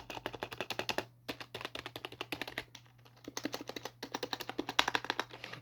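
Rapid, close-up typing on a Logitech G213 budget computer keyboard, a steady run of crisp key clicks with a few brief pauses and no talking.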